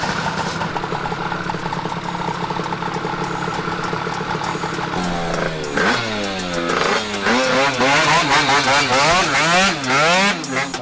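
An Italjet or Roughhouse 110 motorcycle engine is close and loud, idling at first and then revving repeatedly with rising and falling whines, while people talk in the background.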